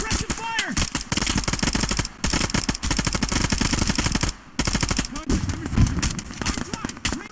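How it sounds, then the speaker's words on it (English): Sustained suppressive gunfire in the video game Operation Harsh Doorstop: rapid automatic bursts and dense overlapping shots, loud and close, with short gaps between volleys and shouted voices mixed in. "Contact! Suppressive fire!"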